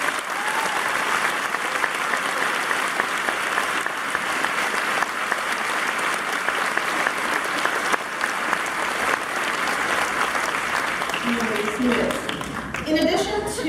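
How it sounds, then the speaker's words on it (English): A school gymnasium audience at a middle school Veterans Day assembly applauds standing veterans, with sustained, loud, dense clapping from a large crowd lasting over ten seconds before fading at the end. "Let's give these men and women a round of applause."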